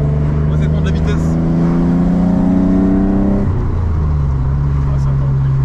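A BMW E36 with individual throttle bodies accelerates, its engine note climbing in steady rising harmonics before dropping to a lower steady drone, loud and close, with people talking over it.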